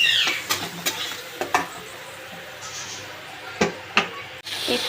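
Spice paste and tomato paste frying in a pan, stirred with a spoon in a handful of distinct scrapes over a steady soft sizzle.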